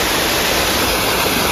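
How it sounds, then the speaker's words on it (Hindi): A water-powered gharat grain mill runs with a continuous, loud rushing of water, a steady, even wash of noise that stays constant from start to finish. "तो ये घराट है जो कि पानी से चलता रहता है, गोल गोल घूमता है"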